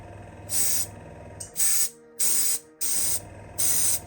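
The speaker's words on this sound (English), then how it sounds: "Airbrushing something like this black" An airbrush sprays black paint onto a model railway locomotive in short hissing bursts, four or five close, sharp-edged sprays separated by brief pauses, over a faint low hum.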